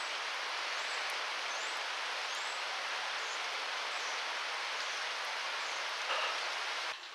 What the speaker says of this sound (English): It's really pouring the rain down